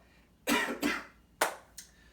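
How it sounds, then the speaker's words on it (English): Four sharp coughs from one person, two close together, then a pause before two more, the last one quieter. "got one more cough."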